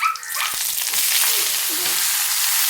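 Mustard seeds splutter in hot oil as a loud, dense, continuous crackle and hiss filling the whole stretch, close up, with no talking.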